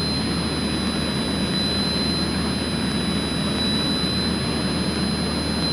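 Steady, droning engine noise from a light airplane's piston engine suffering carburetor ice, heard from inside the cabin as a constant loud hum with a thin high whine above it, no talk.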